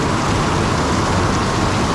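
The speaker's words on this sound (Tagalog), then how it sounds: "yung ulan na dala ni Typhoon Mawar" Heavy rain from Typhoon Mawar pours down in a dense, steady roar, loud and close, with no pauses and no voices over it.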